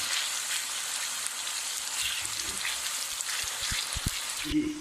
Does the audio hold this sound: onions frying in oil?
yes